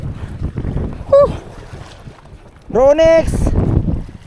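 Gusty sea wind rumbles across the microphone on a fishing outing, under loud talking and a couple of drawn-out shouts.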